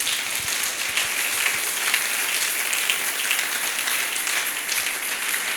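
A church congregation at a seminar applauds for Jesus with steady, dense clapping throughout, loud and sustained like heavy rain on a surface, with no pauses.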